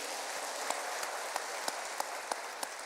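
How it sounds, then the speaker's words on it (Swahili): A congregation at a Kikuyu Woman's Guild Sunday church service applauds in a steady, moderately distant patter, with a few sharper individual claps standing out at regular intervals. "Apigiwe makofi."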